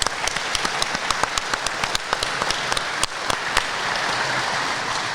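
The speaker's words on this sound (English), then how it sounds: "Give yourselves a round of applause." A live audience at a car event venue breaks into sustained applause, dense clapping throughout with a few sharper nearby claps standing out, loud and without speech.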